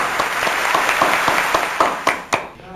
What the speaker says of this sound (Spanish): merecen un gran aplauso